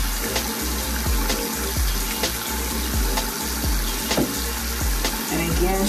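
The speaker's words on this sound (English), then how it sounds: "I'm going to use the baby soap to rinse it out." Running water rinses baby soap out of the human hair of a reborn baby doll, a steady close splashing and trickling flow with small irregular splatters throughout, no voices.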